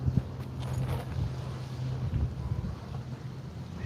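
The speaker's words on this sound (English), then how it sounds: "It's actually quite windy here than I expected. Almost kind of too windy." Steady low wind rumble buffets the microphone at a beach throughout, a continuous gusty roar with no voices.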